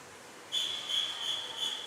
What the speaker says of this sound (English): Quick whistle.